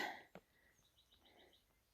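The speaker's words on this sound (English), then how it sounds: "Can you hear the birds?" Birds call faintly in the distance on a mountain section of the Pacific Crest Trail in February, a quick run of short, high chirps after a single dull knock, over quiet outdoor air.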